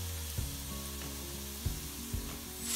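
Dried shrimp and onion stir-fried in an oil pan for a Malvani Konkani dish, a steady close sizzle broken by a few sharp scrapes of the spatula against the metal.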